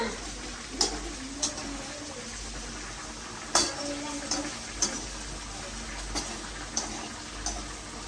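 Food frying in a pan is stirred with a utensil, giving a low sizzle broken by a series of sharp scraping clinks at uneven intervals, close by and fairly quiet.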